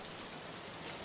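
Steady rain pours down outside government buildings where protesters gather, a dense, even hiss that stays constant and fairly quiet without any breaks.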